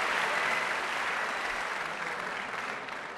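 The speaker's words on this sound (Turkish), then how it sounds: "sıcak alkışım." Warm audience applause on the Turkish talent show Yetenek Sizsiniz Türkiye, steady dense clapping throughout, slowly easing toward the end.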